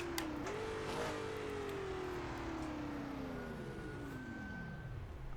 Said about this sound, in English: now I hear a car out on the track